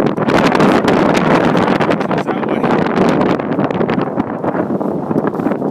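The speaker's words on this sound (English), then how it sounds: "You can really feel the wind now. It's probably going to get stronger too." Strong wind above the tree line on a winter hike up Mount Pierce, loud roaring gusts buffeting the microphone without a break.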